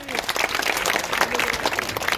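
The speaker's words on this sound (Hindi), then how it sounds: "हो जाए तालियां" An audience at a Bahujan poetry and speech event breaks into dense, continuous applause that fills the space briefly, with a voice faintly mixed in.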